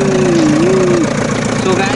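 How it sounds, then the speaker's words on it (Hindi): A JCB bulldozer engine runs steadily while towing a heavily loaded truck and tractor, a loud continuous mechanical drone with a gliding tonal whine, sounding close and unbroken for the whole stretch. "ये हमारा जो बुलडोजर है आ गया है अपने दोनों ट्रक और ट्रैक्टर को निकालने के लिए"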